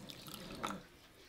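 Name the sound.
cold water poured into a saucepan of sugar and glucose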